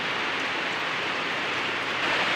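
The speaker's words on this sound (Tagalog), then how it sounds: "Kay naabtan og ulan." Rain falls steadily on a cold day, a continuous dense patter with no speech or other sounds.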